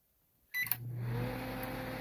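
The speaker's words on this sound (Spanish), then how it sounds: "Ahí tenemos el relevador trabajando." A microwave oven under test with its control board relay switching on: a sharp click after half a second of quiet, then a steady electrical hum and fan whir that continues to the end.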